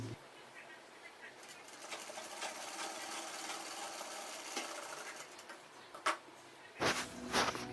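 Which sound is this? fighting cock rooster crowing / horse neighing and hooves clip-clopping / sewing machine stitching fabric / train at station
sewing machine stitching fabric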